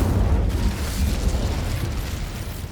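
The Incendio fire spell in Hogwarts Legacy releases a heavy, rumbling burst of flame that roars loud and sustained, dominated by low booming energy with no speech over it.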